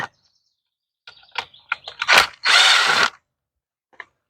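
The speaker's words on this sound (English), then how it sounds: "I'm gonna come up here and take these screws out" A power drill backs screws out of a waterfall box, giving a few short, close buzzing spurts followed by one longer loud whir, with near silence before and after and no talking.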